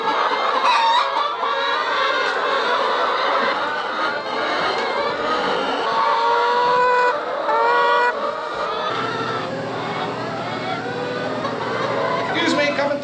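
Chickens cluck and chatter steadily in a coop during morning egg collection, a busy, close flock sound running throughout, with a person talking among them.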